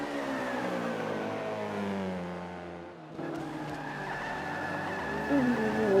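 Race cars in the Forza 5 racing game, with tires skidding and squealing under late braking against a steady engine drone, followed by a brief dip and then renewed engine noise.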